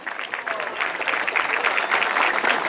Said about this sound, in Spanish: muchas gracias por el aplauso